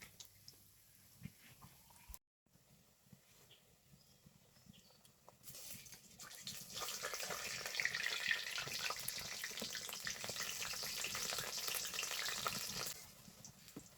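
Lentil fritters drop into hot oil in a wok: a quiet kitchen hiss gives way to a loud, steady crackling sizzle that holds for several seconds, then fades.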